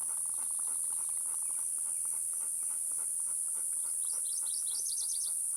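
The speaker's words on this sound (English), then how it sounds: "And that sounds like cicadas." A steady high-pitched insect drone of cicadas holds throughout on a Utah mountain trail, with faint bird chirps scattered beneath and a few brighter tweets near the end.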